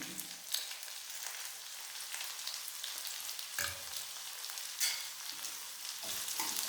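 Curry leaves and green chili with gram dal fry in a pan for a homestyle South Indian masala dosa filling, a steady close sizzle with a few sharper crackles and brief stirring scrapes.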